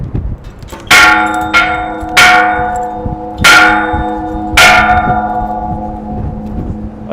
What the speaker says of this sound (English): Ring the bell of good luck.